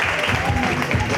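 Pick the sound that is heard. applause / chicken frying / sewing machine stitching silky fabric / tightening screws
applause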